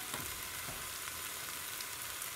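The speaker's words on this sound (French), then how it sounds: "une fois que mes oignons sont bien translucides, je rajoute tous les ingrédients. Donc, je vais commencer par rajouter mes pommes de terre" Potatoes dropped onto translucent onions frying in a Cookeo multicooker, a soft steady crackling sizzle with light stirring clatter, faint and close.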